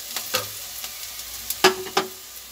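Carom seeds (ajwain) land in a hot pan while samosa is being prepared, with a soft sizzle and a few sharp clinks and taps of a spoon stirring, mostly quiet between the spikes.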